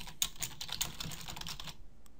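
Fingers typing on a computer keyboard: a close, rapid run of crisp key clicks for nearly two seconds, then the tapping stops.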